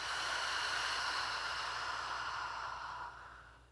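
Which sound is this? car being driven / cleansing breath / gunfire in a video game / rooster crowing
cleansing breath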